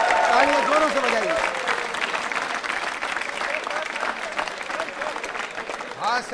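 Loud applause for a quiz show prize winner at VIT East, steady crowd clapping with a voice speaking over it at the start and again near the end.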